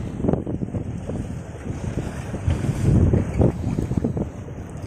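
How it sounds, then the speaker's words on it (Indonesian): Strong wind blowing over rolling sea waves, recorded from a small fishing boat, with a constant gusty rush, buffeting on the microphone and low sloshing water throughout. "Ini anginnya lumayan kenceng bos."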